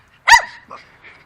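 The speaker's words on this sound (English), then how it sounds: "Gets quiet, and then he barks again." A dog gives a single loud, close bark, followed by a couple of fainter trailing yelps, with quiet before and after.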